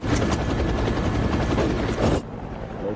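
Helicopter in a film scene, a loud dense rotor thrum with rapid chopping pulses close by that suddenly drops to a quieter rumble near the end.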